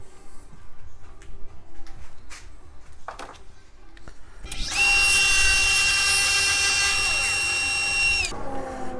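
A power saw cuts a through dado in wood for a pen blank drilling jig, starting midway with a loud sustained whine that runs several seconds and then spins down, after quieter workshop clicks and knocks.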